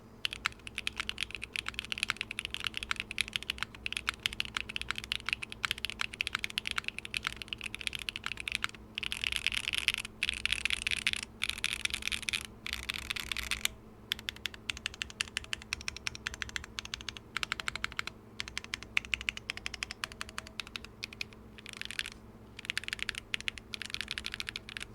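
Brisk, continuous typing on a Machina Orbit 2 mechanical keyboard, with dense rapid keystrokes and short pauses, close and clear with no talking.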